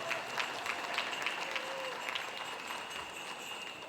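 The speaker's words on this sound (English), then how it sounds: "Let's give her a big round of applause" At an outdoor cultural presentation during a community festival, scattered audience applause sounds faint and distant, an uneven patter of clapping with some crowd noise and a brief voice underneath.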